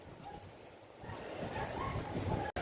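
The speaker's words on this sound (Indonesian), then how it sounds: "Angin berhembus kencang." Strong wind gusts roar steadily across the microphone at an outdoor waterpark, a broad rushing noise that swells slightly louder toward the end before cutting off abruptly.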